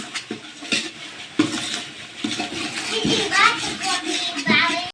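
A spoon scrapes and clinks around a pan while stirring pav bhaji, in irregular nearby knocks with soft sizzling between them.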